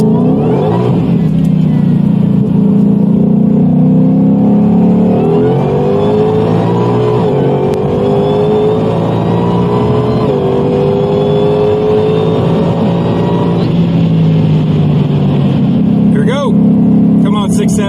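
A Ford Mustang GT500, heavier than stock, accelerates hard in a loud, steady engine roar that climbs in pitch through the gears, with a person talking over it.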